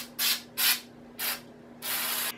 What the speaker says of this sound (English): the final touch would be to spray some snow on my arrangement